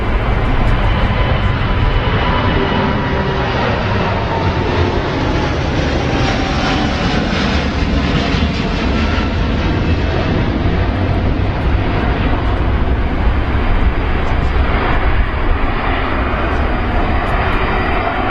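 A British Airways Dreamliner jet takes off at London Heathrow with a loud, sustained engine roar that stays strong and continuous for many seconds.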